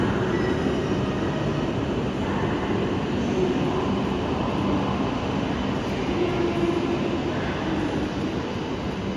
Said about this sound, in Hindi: तो भाई आ गई फाइनली अपनी ट्रेन